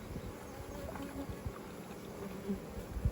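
A low, steady hum of honeybees buzzing around hive boxes stacked on four-way pallets in summer, faint and continuous with a few soft knocks and thumps nearby.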